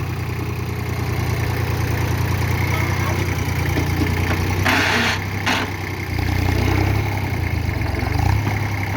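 Mini tractor working a castor field, its engine droning steadily and close, with a brief burst of higher noise midway and the low rumble deepening and swelling toward the end.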